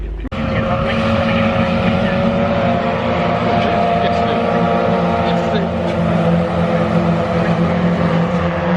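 Mazda MX-5 race cars roar past at Silverstone National Circuit in the rain, a loud sustained engine drone from a close-packed field that swells and holds throughout without pause.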